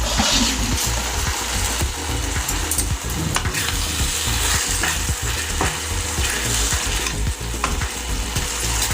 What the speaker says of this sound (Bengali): প্রত্যেকটা চিংড়ি মাছকে আমি গ্রেভির মধ্যে দিয়ে দিচ্ছি।